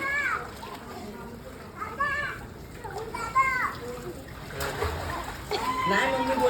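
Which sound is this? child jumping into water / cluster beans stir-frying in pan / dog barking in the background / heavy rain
child jumping into water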